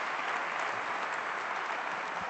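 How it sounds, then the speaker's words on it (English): An audience at a business forum breaks into a sustained round of applause, dense steady clapping filling the room at even strength throughout with no voices on top. "Nice round of applause."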